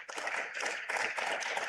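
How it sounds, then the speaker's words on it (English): Applause at an All-American Bowl football draft event, a fairly faint but steady patter of many clapping hands in a small crowd, continuous throughout without speech. "So give these guys a round of applause for their hard work."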